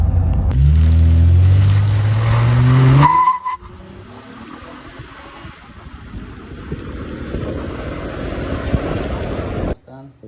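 A modified soccer-mom van with a Borla exhaust revs loudly and close, a deep rising roar for about three seconds that drops to a lower idle rumble and fades out near the end.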